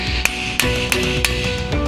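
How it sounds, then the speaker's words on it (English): Four sharp metallic taps of a hammer on the back of a hub bolt during an axle installation, evenly spaced, over a steady background hum. "tap the back of that bolt with a hammer"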